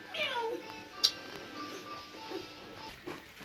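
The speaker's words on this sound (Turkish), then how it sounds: "Hav değil o miyav." A short cat meow rises over a quiet room, with a sharp click and faint voices murmuring around it.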